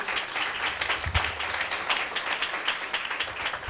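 Enthusiastic congregation applause at a Hindi-language church service, a continuous mass of clapping with a faintly pulsing rhythm, heard moderately distant and without speech.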